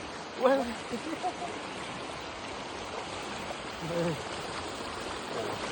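Steady broadband rush of flowing stream water fills the clip, with a brief voice near the start and another faint one later.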